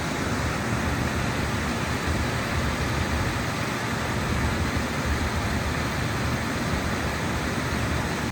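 Steady broadband whoosh of a belt-driven blower motor running after power is restored, a constant airy roar with no change in level, close and continuous.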